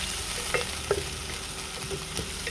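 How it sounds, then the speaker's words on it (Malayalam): Garlic for a home-style Kerala prawn curry stirred in a hot pan, with a steady oil sizzle under a few soft scraping strokes of the spoon, close and fairly quiet. "നമുക്കതിൽ വെല്ലുള്ളി ഇട്ട് കൊടുക്കാം. നന്നായിട്ടൊന്ന് ഇളക്കി കൊടുക്കാം."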